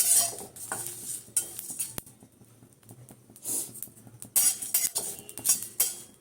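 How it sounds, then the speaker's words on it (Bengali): Spice mix being stirred as it dry-fries in a pan, a spoon scraping and clinking against the metal in repeated bursts with short pauses between strokes, close and fairly loud. "মশলাটা ভেজে নিচ্ছি তো"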